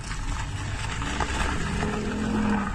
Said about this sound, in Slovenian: Gremo naprej, naslednji avto, Mercedes C43 AMG, ki ima najboljši zvok od vseh tukaj.